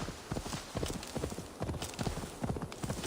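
Horse hooves clip-clopping at a steady gallop in Assassin's Creed Valhalla, rhythmic and fairly close, with repeated hoof beats throughout and no talk over them.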